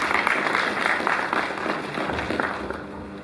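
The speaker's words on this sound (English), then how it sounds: "Please a round of applause." An audience at a college congregation ceremony gives a steady round of applause at moderate volume. The clapping fades slightly toward the end and no one speaks.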